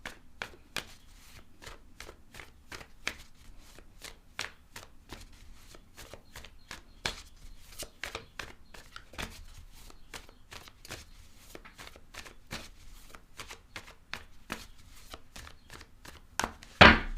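Rapid, evenly spaced riffles of tarot cards being shuffled, a crisp repeating snap close by at a quiet, steady level, with one louder bump at the end.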